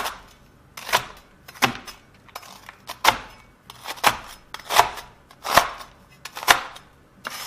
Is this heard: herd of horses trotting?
no